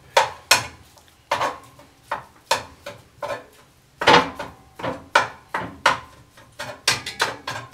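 Ground beef going into a cast-iron Dutch oven on a coal-fired potbelly stove, heard as a series of sharp metallic clanks and knocks in an irregular rhythm, close and fairly quiet, with no talking.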